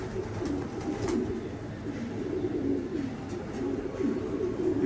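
Pigeons in a loft in Chittagong give low, steady cooing that murmurs on continuously, close and moderately loud, with no talking.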